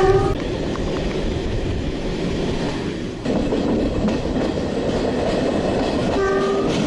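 Steady rumble of a moving train in Portugal from inside a carriage, with rhythmic rattling and a short horn blast near the end; no talking.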